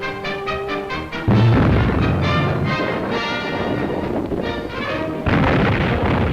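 Anti-aircraft guns firing in a 1941 American coastal defense newsreel, loud repeated booming shots layered with rumbling blasts, steady and continuous throughout.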